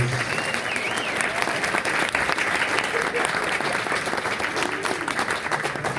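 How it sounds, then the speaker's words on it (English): Sustained audience applause for the North Country Fiddle Orchestra at a folk dance event, a dense steady wash of many hands clapping with faint cheers, loud and continuous throughout. "Let's give them a wonderful round of applause"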